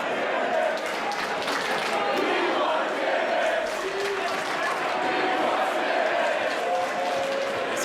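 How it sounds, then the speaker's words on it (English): Wrestling crowd at a women's match in Vancouver, Canada, chanting together in a steady sustained roar that fills the room, with the massed voices continuous and loud throughout. "Crowd chanting, "We want Timbits!""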